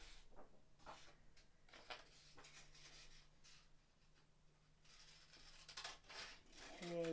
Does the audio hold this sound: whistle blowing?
no